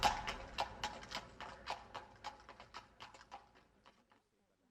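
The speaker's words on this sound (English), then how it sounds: "I helped him to get back onto his horse, and he rode away without thanking me." A horse's hooves clip-clop at a steady trot as a rider departs in a Jane Eyre audio story, the rhythmic clops loud at first, then fading into the distance until silence.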